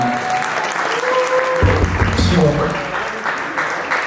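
Audience clapping at a hip-hop talk event, a steady wash of applause from many hands that carries through the whole stretch, with voices and other sounds mixed in above it.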